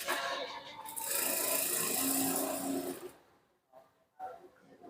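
Sewing machine running a steady stitch along the side seam of a women's salwar pajama for about three seconds, a dense continuous whir that stops abruptly, followed by a few quieter handling sounds.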